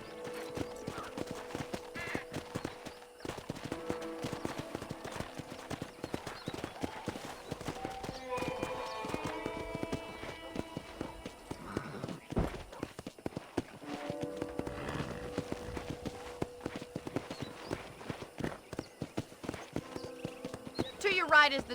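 Horse hooves clip-clop steadily at a riding pace in the Red Dead Redemption video game, with brief neighs and a music score underneath, dipping briefly near the middle before the hoofbeats resume.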